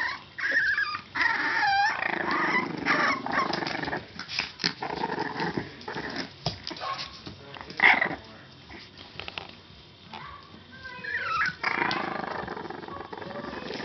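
A four-week-old Boston Terrier x English Bulldog puppy growls close up in a run of small, gravelly rumbles and squeaky yips, with short pauses and a few higher whines in between.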